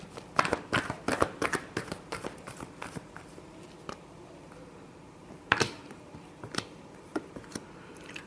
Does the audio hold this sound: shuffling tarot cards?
yes